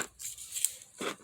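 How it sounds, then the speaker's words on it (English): Adhesive tape is torn from a roll while a wooden dowel pyramid is assembled, giving two short, faint ripping bursts with a quiet gap between them. "we're going to tape this down there"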